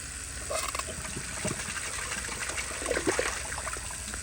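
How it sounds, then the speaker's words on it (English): A miniature 10-inch prototype Berlin toilet flushing, a steady wash of rushing, trickling water with gurgling swells, close and fairly quiet, with no talking. "give y'all another flush. Let's see if this is better."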